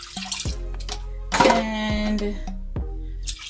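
Liquid poured from a container into a pan for homemade yakitori sauce with soy sauce, water, sugar and sake, a steady splashing stream close by in a kitchen, while a person speaks briefly.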